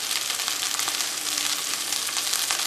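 Sliced onion and curry leaves frying in hot oil in a pan, a loud, dense, continuous sizzle with crackling spits throughout, close up and with no talking.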